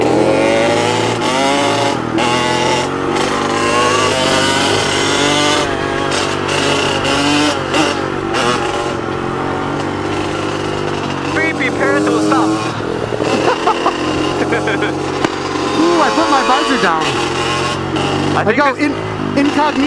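Pit bike engines revving on a small pit bike track, a continuous loud motor drone with rising and falling revs throughout, with people talking over it.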